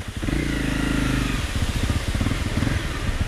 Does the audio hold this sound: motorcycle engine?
yes